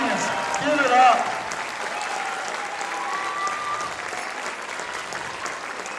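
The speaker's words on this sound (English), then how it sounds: "let's have one more round of applause from 5th through 12th grade Bean students" A school audience claps warmly after a spring concert of 5th through 12th grade students, a dense, sustained wash of applause with a brief cheer near the start, steady and fairly loud throughout.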